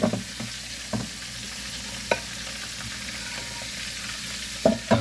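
Eggs for an omelet sizzle softly in a pan, with a few sharp scrapes of stirring spaced through a quiet, steady frying hiss.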